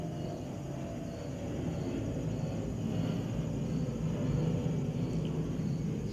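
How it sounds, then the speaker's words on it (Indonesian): A low, steady airplane rumble drones continuously overhead during a relaxed outdoor recording, broadband and fairly loud, swelling slightly toward the middle and end with no speech over it. "anjir suara pesawat ini"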